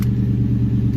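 A Ford Mustang GT engine idles near 1100 RPM in a garage, putting out a close, loud, steady rumble with an even low pulsing throughout.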